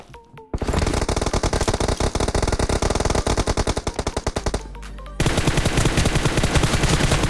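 An M416 assault rifle fires in the BGMI mobile shooter: loud, close sustained automatic bursts with rapid rhythmic shots, a brief pause, then another continuous stream of gunfire.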